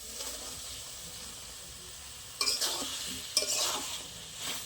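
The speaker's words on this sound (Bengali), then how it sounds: "এবারে ভেজে রাখা আলু আর সয়াবিন একসাথে দিয়ে দেবো।" Fried potatoes and soybean chunks go into a sizzling spice paste in a pan, giving a soft steady sizzle and two sharp bursts of stirring and scraping.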